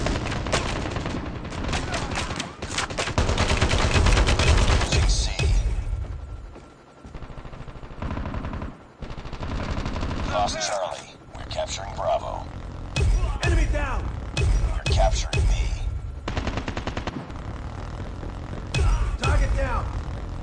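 Gunfire in the mobile shooter game Call of Duty Mobile, dense rapid automatic bursts and scattered shots with short gaps, loud and near, with game voice announcements in between.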